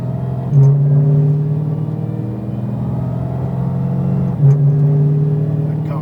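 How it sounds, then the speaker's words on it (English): An 1100-horsepower Dodge Demon in drag mode pulls hard with a loud, steady engine drone and rumble, broken by two sharp gear shifts roughly four seconds apart. "It's in drag mode, so you can tell it shifts harder."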